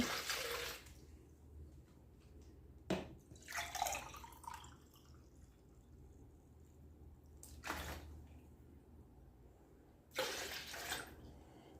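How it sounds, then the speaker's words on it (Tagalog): Cold water poured into a lemon and mint drink, several short splashing bursts separated by quiet pauses, fairly faint and close. "And then, we will add 2 glasses of water. Cold water."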